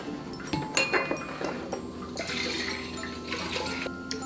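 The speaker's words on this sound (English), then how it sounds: "you're gonna pour this into the pitcher because we're gonna use this pitcher" A coconut drink is poured into a pitcher, giving a wet splashing trickle with glassy clinks and knocks of the container nearby, fairly quiet and with no voice.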